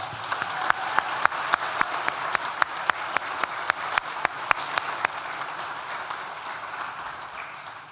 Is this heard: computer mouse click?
no